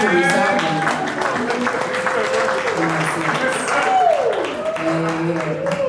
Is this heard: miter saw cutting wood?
no